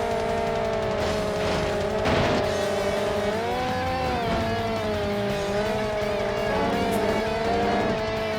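Racing car engines in the Test Drive: Eve of Destruction video game, one of them a Datsun 510-style car. Engines rev and whine loudly with pitch that rises and falls, and tires give brief squeals. No voice is heard.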